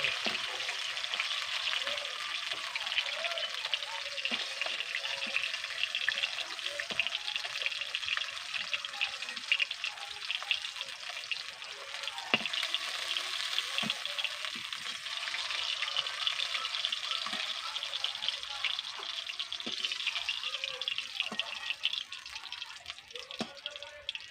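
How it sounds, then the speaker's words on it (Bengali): Small puti fish fry in hot oil, giving a constant, dense crackling sizzle with tiny popping spatters that continues evenly throughout, close by and moderately loud. "মাছগুলোকে সব ভেজে নিয়েছি এবার এগুলোকেও তুলে নেব"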